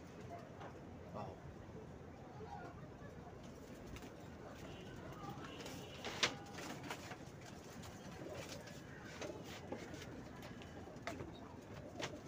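Pigeons cooing in a rooftop pigeon loft, soft steady coos against constant background noise with a louder flutter or knock midway; no talk over them.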